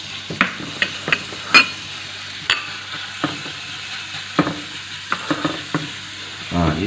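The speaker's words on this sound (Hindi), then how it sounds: "अब इनको हमने अच्छी तरह जो है इसकी मिक्सिंग कर लेनी है प्याज की।" Onions being stir-fried for chicken dry chili, a steady low sizzle under repeated sharp clinks and scrapes of a utensil against the pan in an uneven rhythm, close, with no talking.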